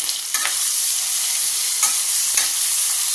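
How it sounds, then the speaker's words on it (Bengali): Onions frying with green chillies, garlic, dry red chilli and five-spice tempering in a pan, giving a loud, steady sizzle with a few stirring scrapes, alone and close. "পেঁয়াজটা একটু ভাজা হোক"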